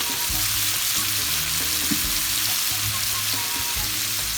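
Shrimp fry and sizzle in a pan seasoned with oregano, with a steady close hiss and the clatter of stirring throughout, and no voices.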